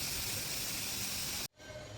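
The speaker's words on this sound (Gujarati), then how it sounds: "તો જો વરાળ નીકળી ગઈ છે" Pressure cooker venting steam as chickpeas and potatoes boil inside, a loud steady hiss that cuts off abruptly near the end, leaving a quieter background.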